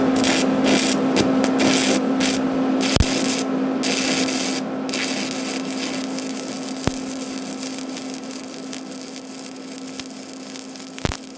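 Stick welding run with a 7018 rod on an R-Tech Power Tig 260 in MMA mode, hot start and arc force turned up: a steady, loud crackling sizzle of the arc with a faint mains hum, continuing alone for the whole stretch without talk.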